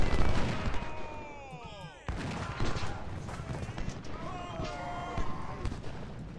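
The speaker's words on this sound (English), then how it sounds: "We're going to get the canister shot on him." Canister shot artillery fire in the video game Ultimate General: Civil War, with a sharp cannon blast partway through, scattered musketry crackle, and battle ambience under a voice talking.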